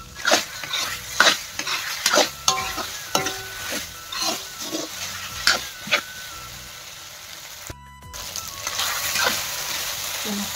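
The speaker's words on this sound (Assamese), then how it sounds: "মই ভাজিয়ে আছোঁ প্ৰায় 10 মিনিটমান ভাজিব লাগিব মাংসটো" Chicken pieces with raw turmeric frying and being stirred in a pan, with repeated scraping stir strokes and a steady sizzle, utensil clatter against the pot, and a brief break near the end before the frying resumes.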